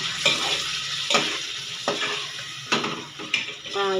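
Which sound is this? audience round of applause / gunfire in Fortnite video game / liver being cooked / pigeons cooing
liver being cooked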